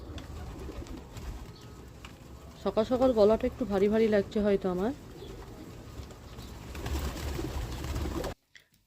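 Pigeons coo softly in the background while being fed wheat grains in the morning, a low steady murmur that continues under someone speaking close by.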